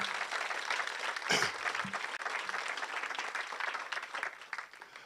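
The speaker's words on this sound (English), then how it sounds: "So just a quick round of applause" Steady, dense applause from an audience at a memorial celebration of life fills the room, continuous and fairly distant, with a faint voice briefly audible.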